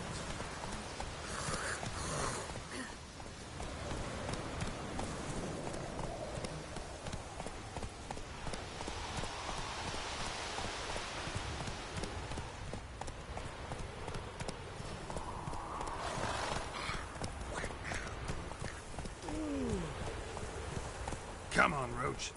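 Roach the horse galloping in The Witcher Wild Hunt, a continuous run of hoof clip-clops at a steady pace, with game music and voices mixed in.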